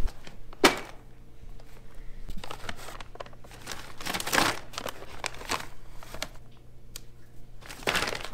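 Potatoes being packed into 10-pound bags, heard as a string of crinkling, rustling thumps and crunches at irregular intervals, moderately close, with no talk.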